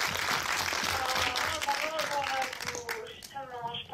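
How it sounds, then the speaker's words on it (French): A crowd applauds with dense, steady clapping that carries on throughout, while a voice talks over it toward the end. "Applaudissements pour Maud Becker, s'il vous plaît."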